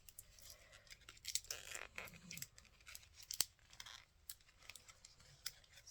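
Scissors snipping through craft ribbon while making a circle sayings birthday card, with a few sharp, close cuts and crinkly handling noises in an otherwise quiet room.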